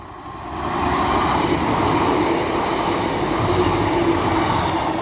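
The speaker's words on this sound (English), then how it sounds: "the next train to be coming through will be a pairing of Class 150s running from Blackburn to Headbolt Lane" Two coupled British Rail Class 150 diesel units race through a station on the Calder Valley line at Castleton, a loud, sustained roar and rumble of wheels and engines that swells in and holds steady.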